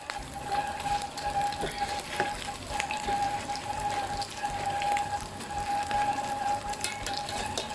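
Small shrimp sizzling and crackling as they deep-fry in hot oil; a dense, steady patter of bubbling and popping, fairly close, with a faint tonal hum underneath.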